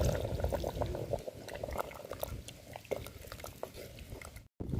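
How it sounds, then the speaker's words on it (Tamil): Tamarind water being poured into a boiling dry fish curry in a clay pot, a steady close wash of pouring and bubbling liquid that breaks off briefly near the end. "இப்போ நம்ம புளி தண்ணியை ஊற்றிக்கலாங்க."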